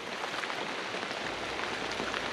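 Steady rain falls outdoors beside a greenhouse under construction, a dense, even hiss of drops on surfaces that stays constant and fairly close with no voices.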